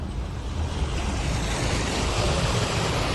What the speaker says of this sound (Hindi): भारी बारिश के चलते लखनऊ के पौष इलाके में दरिया बहने लगा।